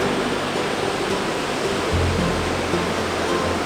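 Surf washing onto a beach beside a campsite at night, heard as a steady, loud wash of broadband noise with a deeper surge swelling in about halfway through, no voices.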